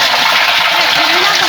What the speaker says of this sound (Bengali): ওই যে ওভারলোডের পানি পাইপ আর কি।